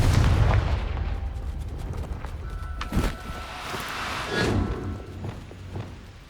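Confringo fire-blast spell explosions in the Hogwarts Legacy video game, several booming thuds and bursts spread across the scene over a rumbling low background, with a loud blast near the start.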